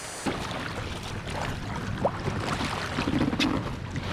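A kayak glides across open water on a trip to a small island, with soft paddle splashes and faint knocks over a steady wash of wind and water.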